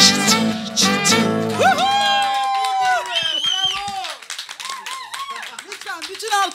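An audience claps briefly in a studio music show, a dense burst of applause for about a second and a half, followed by people talking.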